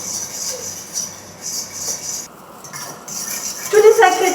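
A spoon scrapes and clinks against a bowl while cosmetic ingredients are stirred energetically, a steady rhythmic scraping that grows louder and busier toward the end.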